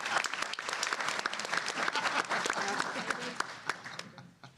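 Audience applause at an education legislative conference, many distinct hand claps in a lively patter that thins out and fades toward the end, with a voice speaking underneath.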